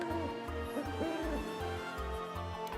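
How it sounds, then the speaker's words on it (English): Owl hooting from the video game Paper Mario: TTYD HD, a regular series of soft low hoots repeating about every half second over a gentle musical background, with no talking. "That sounded like the owl noises from the little forest maze in the first Paper Mario."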